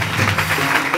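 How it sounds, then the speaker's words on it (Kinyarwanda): A church congregation at a prayer gathering for church leaders claps together in a brief, loud, even burst of applause, with a faint hum of voices mixed underneath. "Dukomeye Imana amashyi menshi cyane abashumba bahaguruka."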